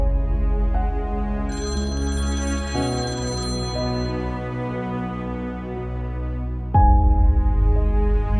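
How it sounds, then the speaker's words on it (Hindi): A phone ringtone plays a sustained synthesized melody that changes notes in steps, loud and close, continuing for several seconds with no voices over it. "प्लीज अबरार, फोन तो उठाओ"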